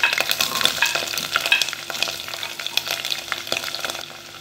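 Halved shallots and green chillies sautéing in a pan, a bright crackling sizzle with spatula scrapes and stirs, close and fairly loud, fading slightly toward the end.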